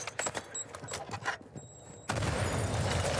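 A grenade blast in the Warzone 2 video game, with scattered clicks and distant shots before a sudden loud broadband burst that rings on to the end.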